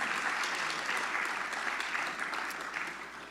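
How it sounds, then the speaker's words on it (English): A round of applause from an audience at a talk gathering, many hands clapping in an even, moderately quiet patter that tapers toward the end. "Big round of applause."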